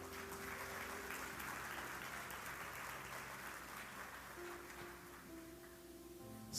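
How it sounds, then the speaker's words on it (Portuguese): A church congregation applauds its preacher, a steady, dense wash of clapping that fills the room, with sustained musical tones humming underneath throughout. "Um aplauso ao Senhor pela vida dele."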